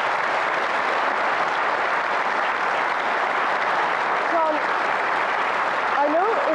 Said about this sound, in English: a round of applause for the architect